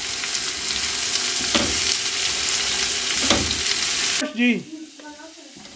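Vegetables sizzling loudly in a pan while being softened for a macaroni dish, with steady close frying and occasional stirring, before the sizzle cuts off and a brief voice speaks.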